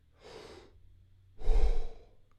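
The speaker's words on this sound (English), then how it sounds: "take a deep breath as such" Two slow, deep breaths taken close to the mic, the first a soft airy inhale and the second a louder, fuller draw with a breathy rush, separated by a short silence.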